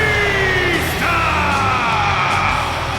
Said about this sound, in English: Sounds like this crowd came to see Batista, Corey.